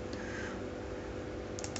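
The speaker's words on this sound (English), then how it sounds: "Okay, I'm typing the setsc." Typing on a computer keyboard during a Windows password reset, a soft steady patter of keystrokes under a constant background hum, with a few sharper clicks near the end.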